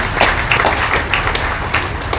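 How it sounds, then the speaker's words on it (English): A county fair market beef show crowd claps for the ring staff, a steady, moderately loud patter of applause sustained for a couple of seconds. "Give them a round of applause for helping referees."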